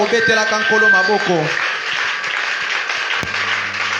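A church congregation applauds in a dense, sustained wash of clapping, heard over a loud voice and music early on, then continuing as a steady, noisy roar of hands.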